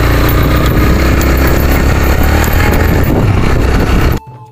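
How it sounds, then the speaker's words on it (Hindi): A motorcycle ridden over rough roads in cold, high-altitude Kashmir, its engine droning loud and steady with road rumble and wind for about four seconds before cutting abruptly to near quiet. "इस टाइम बाइक चला रहे हैं तो ये हमारे कश्मीर के रोडों की हालत है"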